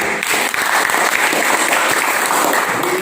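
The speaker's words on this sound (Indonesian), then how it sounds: "Baik, tepuk tangan." A classroom full of people claps steadily, a dense burst of applause lasting a few seconds.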